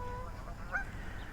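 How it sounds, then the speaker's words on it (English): A single faint honk from a goose rises briefly out of steady outdoor background noise beside a small pond where geese and ducks gather. "This place is always full of geese and ducks, and it's got this beautiful little pond"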